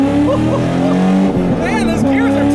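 A 2000 Chevrolet Camaro SS with a manual gearbox driving on a damp back road, its V8 engine droning steadily and loudly up close, with pitch rising and shifting as it pulls through the gears.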